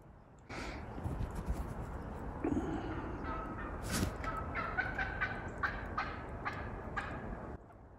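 Wild turkeys gobble near their roost: a series of loud, rattling gobbles from several birds, some overlapping, carrying on almost without pause for several seconds before stopping.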